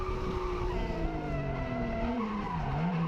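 A car drifts through a corner at Ozark Raceway as the driver yanks the e-brake, with a steady, loud engine drone whose pitch sags and rises beneath continuous tire skid and squeal, close and without pause.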